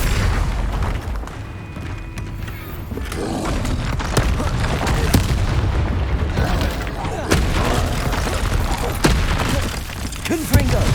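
Repeated sharp blasts from Confringo fire spells during a Hogwarts Legacy battle against a troll, a rapid series of loud booming impacts and crackling hits over eleven seconds, with spell shouts and game voices mixed in.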